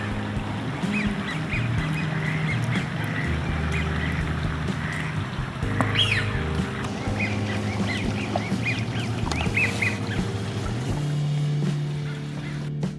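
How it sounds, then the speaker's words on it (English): Male Eurasian Wigeon ducks give several loud, clear whistled calls over a continuous wash of waterfowl noise and distant background rumble. "The male Eurasian gives a loud whistle"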